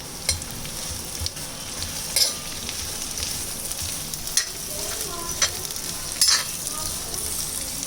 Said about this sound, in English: Saute it until the onions are translucent.